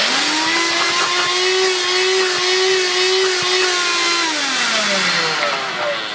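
A Bissell Magic Broom used as a hand vacuum runs with a steady, close, high motor whine, then winds down in pitch at the end, with no talking.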